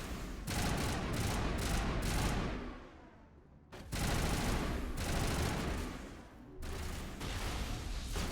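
Heavy sustained gunfire in the video game Mass Effect, loud overlapping bursts of automatic fire that fade out briefly, then resume in long close-range volleys.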